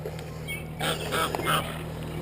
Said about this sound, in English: I think they ticked off some geese.